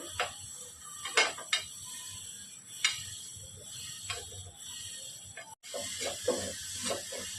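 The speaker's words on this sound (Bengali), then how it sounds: "আমি ফ্রাইং প্যানে গোটা মৌরি, গোটা সাদা জিরে আর 5 ফোড়ন আর কাঁচা লঙ্কা আমি হালকা ভেজে নেব।" Whole fennel, white cumin, five-spice and green chilies dry-frying in a pan without oil give soft hissing and scattered light ticks and clinks of stirring against the pan, close and fairly quiet.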